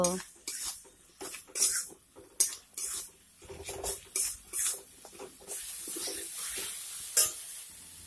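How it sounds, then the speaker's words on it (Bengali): Ground cumin, coriander and turmeric fried together in a pan, heard as a series of scraping stirs and clinks of a spoon against the metal with a soft sizzle underneath, in uneven bursts spread across the whole stretch. "এইবারে সবগুলি উপকরণ একসঙ্গে ভালোভাবে বেজে নেব"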